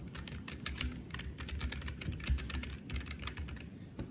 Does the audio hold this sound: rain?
no